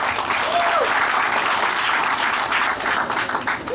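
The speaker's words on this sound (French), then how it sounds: "un message de remerciement pour le chef de l'État, le général de corps d'armée, Mahdi Doumbouya, que je vous prie d'applaudir" A crowd at an official ceremony in Guinea applauds the head of state with dense, steady clapping that fills the whole clip at close range. A raised voice cuts through it briefly.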